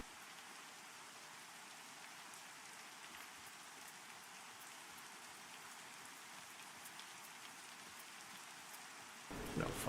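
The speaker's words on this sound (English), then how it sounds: "No fun in the rain." Steady rain falls in the fantasy game Pantheon: Rise of the Fallen, an even, soft hiss of drops on surfaces that holds constant before a louder noise cuts in at the very end.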